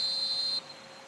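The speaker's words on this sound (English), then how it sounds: "Referee's had a look, and he's blown his whistle for half-time" A referee's whistle blows for half-time in the eFootball mobile video game. A single steady, high whistle tone holds for about half a second, then cuts off abruptly, leaving a quiet background.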